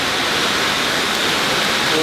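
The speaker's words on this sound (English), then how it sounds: "a wide fan-shaped waterfall that gently splashes down into an inviting deep green pool" Gozalandia waterfall in Puerto Rico, a wide three-tiered fan-shaped cascade pouring over limestone into a deep green pool, roars as a loud, steady broadband rush with no break.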